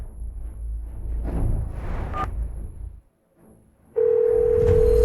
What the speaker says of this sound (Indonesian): Aku telepon suamiku dulu.